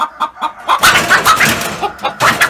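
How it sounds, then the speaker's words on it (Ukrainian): Young hen clucking and squawking loudly up close while being caught and packed for transport, a run of agitated calls with brief gaps. "І тут ось у нас одна курочка і друга теж зараз беремо, упаковуємо."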